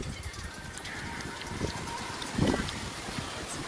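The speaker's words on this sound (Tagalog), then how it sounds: "Oo, ang ganda talaga ng hangin." Steady wind gusts buffet the microphone outdoors behind a house, a rough rushing noise with a few low thumps and a stronger blast near the end.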